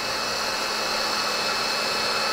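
Hot air gun blowing steadily at close range while trim parts on an Audi S5 are being worked, a constant even hiss with no speech over it.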